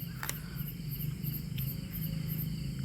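A katydid and other night insects chirp in a steady nocturnal chorus, with a few sharp clicks early on; no one speaks.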